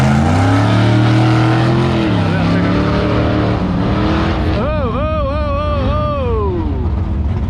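A pickup truck with a 5.0 engine, headers and a 5-lug conversion revs loudly at a drag strip, its engine roar rising and shifting in pitch throughout, with crowd noise and people talking underneath.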